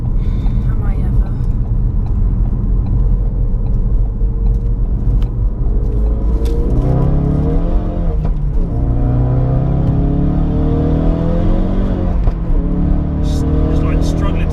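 A 400 bhp Ford Focus RS accelerating hard while struggling for traction in third gear, a loud continuous engine roar rising in pitch with voices talking over it inside the car.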